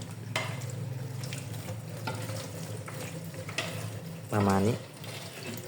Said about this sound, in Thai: นี่ต้มกำลังเดือดอยู่นะครับ